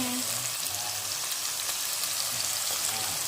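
Tomatoes frying with ginger-garlic paste in a pan for tomato rice, a steady close hiss and sizzle throughout with faint background murmurs.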